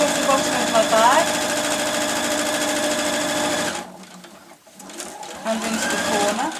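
Sewing machine stitching straight across the bottom of a cosmetic bag, a close rapid mechanical whirr that runs steadily, then stops for a pause with small clicks and handling noises before starting again, with someone talking over it.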